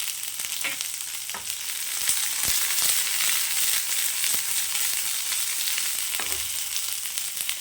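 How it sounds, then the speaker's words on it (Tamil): Onions sauté in a pan with curry leaves and poppy seeds for a mutton gravy. A steady bright sizzle runs throughout, with soft stirring scrapes and taps now and then. Close by, with no voices. "நல்லா வெங்காயம் வதங்கட்டும்."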